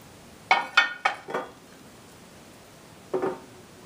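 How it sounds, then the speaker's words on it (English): A hot metal lid set onto a Dutch oven on a wood stove, giving four quick ringing clanks in a row, then a pause and one more clatter, close and fairly loud against a quiet background. "Now I'm going to put that hot lid on, and I'm going to put some coals on it"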